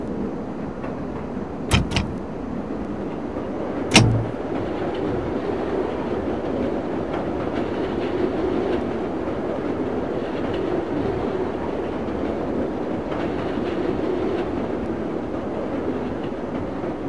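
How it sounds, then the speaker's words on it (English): Chicago Brown Line elevated train running in the Railfan game on PS3, a steady rumbling roll with rhythmic wheel noise and a couple of sharp clanks early on, continuous and fairly loud. "This is a Brown Line train to Kimball."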